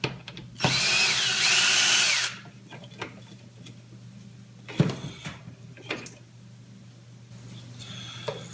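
A cordless power drill backs screws out of a stir plate enclosure in one loud, steady whir lasting under two seconds, followed by quieter clicks and handling knocks against a low steady hum.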